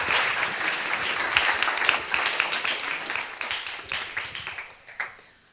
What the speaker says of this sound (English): So round of applause to all the project finalists.